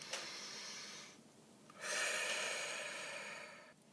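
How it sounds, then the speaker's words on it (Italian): A slow, deep breath drawn in during a calm morning card-reading session: a soft airy inhale, a short pause, then a longer, steadier exhale, close and quiet with no talking. "facciamo un bel respiro"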